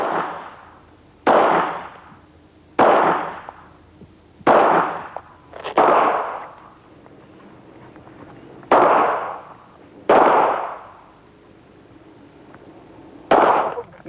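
A submachine gun rated at 600 rounds a minute fires loud, sharp single shots at irregular intervals of one to three seconds, each with a booming echo tail, with no talking.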